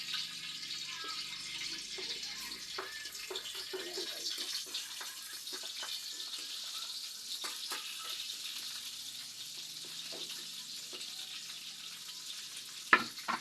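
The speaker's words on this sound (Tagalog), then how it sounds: "igigisa na natin ang bawang" Garlic sautés in oil in a pan for chicken curry, giving a faint, continuous sizzle with scattered soft pops and clicks of stirring that carry on steadily throughout, with no talking.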